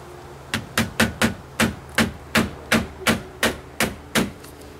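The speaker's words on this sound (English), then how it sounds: "better nail a flap down" Hammer strikes drive a nail into a flap on a roof, about a dozen sharp, close, ringing blows in a steady, slightly uneven rhythm.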